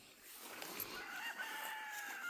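A farm rooster crows once, a single drawn-out call at moderate distance over quiet outdoor background.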